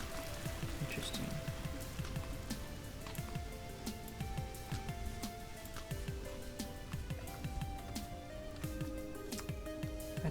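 Rainfall in the video game Vintage Story, a quiet patter of scattered drops continuing steadily beneath soft sustained musical tones, with no voices.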